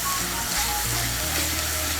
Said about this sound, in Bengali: টমেটো বাটাটাকেও মিশিয়ে নেব তেলের সঙ্গে।